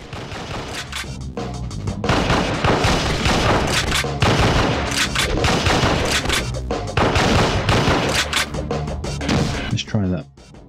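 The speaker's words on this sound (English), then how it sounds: "I think you can shoot the grenades out of the sky." Rapid gunfire from a light-gun shooter on PlayStation 2, fired to shoot enemy grenades out of the air in Endgame; dense, loud, sustained bursts with explosive booms under game music and effects, ending abruptly.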